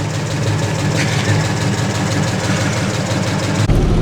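A 1934 Ford Coupe running on an electric fuel pump pulls away, its engine a loud, steady, close rumble that holds for several seconds before a sudden shift near the end.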